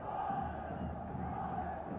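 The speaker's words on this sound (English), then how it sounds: "Big crowd here at the stadium." A big crowd roars steadily at a stadium rugby league match between Paris St Germain and Leeds in 1996, a dense, continuous wash of cheering with no clear individual voices.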